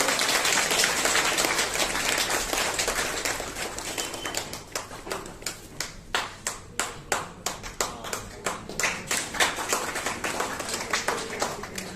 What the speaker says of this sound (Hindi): आप उनका ताली से स्वागत कीजिए